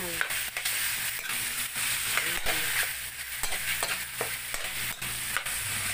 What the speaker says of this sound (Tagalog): Haluin po natin ang chicken.